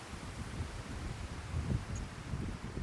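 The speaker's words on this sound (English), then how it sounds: "It is very windy. I'm sure you can tell." Strong wind gusting across an open outdoor spot, a steady rushing roar with rustling and microphone buffeting that swells and eases over a few seconds, with no talking.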